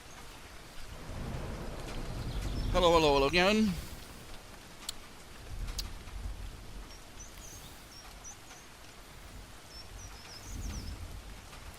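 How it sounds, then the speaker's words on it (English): Rain falls outside with a low rumble of thunder, a soft steady wash heard through a room while someone speaks briefly over it. "Can you hear the rain?"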